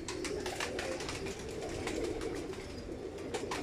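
Kamagar pigeons coo in a loft, a dense, steady murmur of overlapping low coos with soft rustling and occasional wing flutters, close and continuous throughout.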